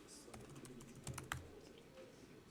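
Password being typed on a computer keyboard during a Windows terminal session, a quick run of light key clicks with a couple of sharper taps, close and alone.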